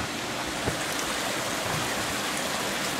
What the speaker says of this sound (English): River is so shallow right now.